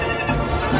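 A young goat kid in a cartoon gives a short, close bleat lasting under a second, loud and alone without talk.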